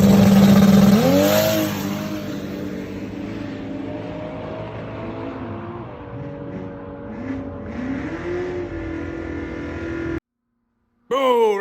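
A 2JZ-swapped Mazda FD RX7 accelerates hard down a dragstrip, its engine roaring loud and close with rising pitch sweeps as it climbs through the gears, then cutting off abruptly near the end.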